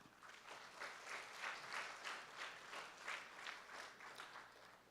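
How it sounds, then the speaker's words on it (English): Audience at a primary school graduation applauding, a steady wash of many hands clapping in soft swelling waves, fairly distant and faint. "Round of applause, please."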